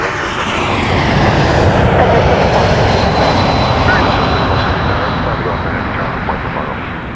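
A jet airliner takes off from runway 06 left at Toronto Pearson Airport, a loud, steady engine roar filling the whole stretch with no pause.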